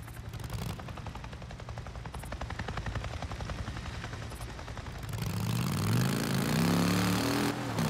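A helicopter in Days Gone thumps with a rapid, rhythmic rotor chop at a steady pace, then swells into a louder, closer roar of engine and blades.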